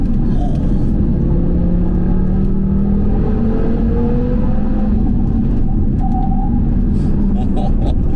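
An Audi TT RS under heavy tuning drives at speed. Its engine drones loudly and continuously inside the cabin, with the pitch sweeping up and down through gear changes over a constant road rumble.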